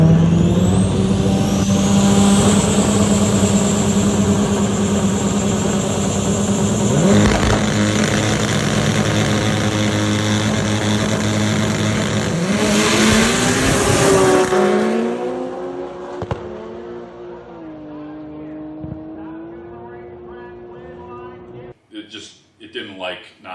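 Toyota race car with a 2JZ engine making a drag racing pass, its engine droning loud and steady with rising revs, then cutting off abruptly about two-thirds through, leaving quieter mechanical noise.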